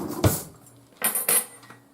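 Metal forks clink against other cutlery as they are picked out of a kitchen drawer, a sharp clatter followed by a few quieter jangles close by.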